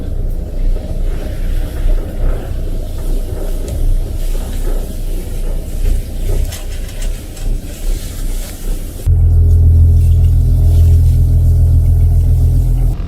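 A motorboat engine drones steadily with wind buffeting the microphone, then a louder, deeper engine roar takes over close by for the last few seconds.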